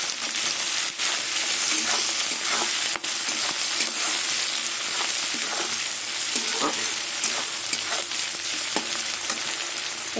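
Tomato and ginger paste frying in a pan for a silver carp fish curry with poppy and melon seeds, a loud steady sizzle with regular scraping stirs and occasional sharp clacks, no speech.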